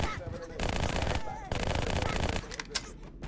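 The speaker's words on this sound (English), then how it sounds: "Let's go back to using this SMG." An SMG in Halo CMT SPv2 fires in sustained rapid bursts, loud and close, with short pauses between volleys and someone talking over the gunfire.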